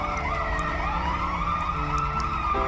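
An ambulance siren in the video game Turovero wails steadily and loud throughout, a continuous electronic tone with traffic-like rumble beneath and no talking.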